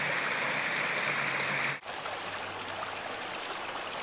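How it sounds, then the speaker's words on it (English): A small stream runs down a desert canyon valley at Pine Creek in Red Rock Canyon, Nevada, a steady close rushing and trickling wash of water that continues unbroken with no voices. "You can hear the running water."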